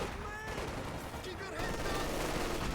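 Artillery barrage in the Company of Heroes 2 real-time strategy game: a dense, continuous rumble of explosions and gunfire, loud and sustained throughout with a voice talking over it.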